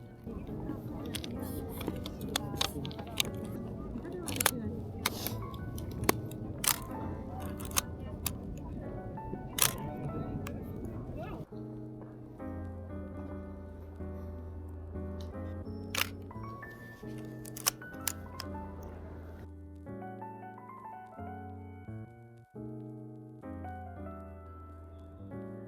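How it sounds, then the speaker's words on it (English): A Nikon F3 film camera is reloaded close up outdoors, with sharp mechanical clicks and snaps scattered over a soft tonal background hum. "I couldn't get a better place to reload my Nikon F3 than this."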